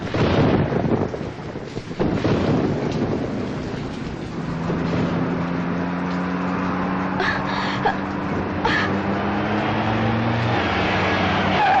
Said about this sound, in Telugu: అమ్మా భారతి, ఇంత రాత్రిపూట ఈ వర్షంలో ఎక్కడికమ్మా బయలుదేరావు?